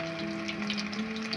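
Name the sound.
chicken pieces frying in hot oil for homemade KFC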